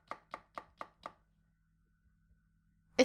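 Chopping in the Corpse Party: Book of Shadows video game, five quick evenly spaced chops, crisp and close, then quiet with a faint low hum and a sudden louder hit at the very end.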